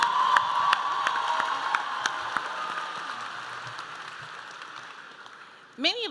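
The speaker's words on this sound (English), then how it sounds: "Let's give them another round of applause." At a 2023 high school graduation ceremony, the audience breaks into scattered clapping and a few cheers that gradually fade, with a faint voice rising at the very end.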